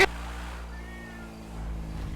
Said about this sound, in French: il y a un chat dans la voiture